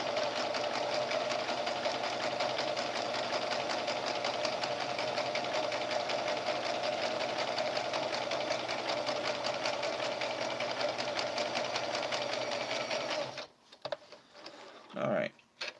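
A domestic sewing machine runs at a fast, steady stitching rhythm, loud and close, for most of the span, then stops abruptly, leaving a few quieter handling sounds.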